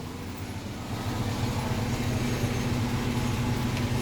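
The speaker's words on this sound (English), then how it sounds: "I'm going to start the truck up now." The engine of a 2005 GMC box truck runs steadily with a low, continuous rumble and throbbing hum, close and fairly loud, without voices.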